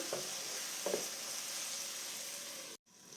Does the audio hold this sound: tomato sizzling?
yes